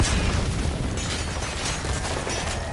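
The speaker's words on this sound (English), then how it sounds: "Oh, that's a grenade!" A grenade goes off in the Metal Gear Solid 5 video game, producing a heavy booming explosion whose dense rumble and crackling debris stay loud and sustained for the whole few seconds.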